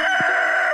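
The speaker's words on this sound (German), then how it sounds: "Kikerikiki." A rooster crows in the farming game Stardew Valley: a single short, loud, close call that stands alone.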